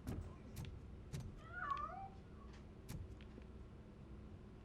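A single cat meow, fairly clear and mid-distance, with faint background clicks and low rumble, in the video game RoboCop: Rogue City; no talking.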